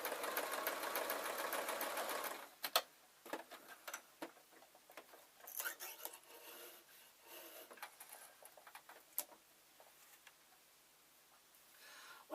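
A sewing machine runs in a steady, fast whirring burst for about two seconds while stitching a ladies' t-shirt. Quiet ticks, snips and handling sounds follow as the fabric is trimmed.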